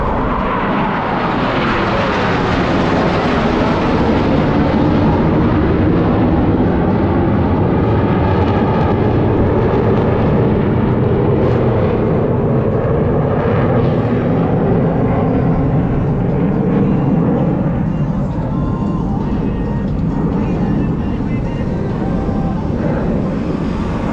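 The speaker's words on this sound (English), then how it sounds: "From the right, at 400 miles per hour, the Diamond roll. All four aircraft flying as one in this graceful" Four Blue Angels jets flying the Diamond roll at about 400 mph, a loud continuous roaring jet rumble that swells and sweeps past overhead, with the pitch falling as the formation passes; an announcer speaks faintly under the noise.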